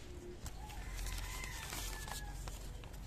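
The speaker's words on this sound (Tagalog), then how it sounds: "Ito ay native na manok." A native chicken rooster crows and clucks in a farmyard, its calls rising over steady, fairly loud outdoor background noise with scattered sharp knocks.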